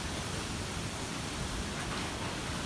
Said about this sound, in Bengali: একদম জোরে বৃষ্টি হইতেছে।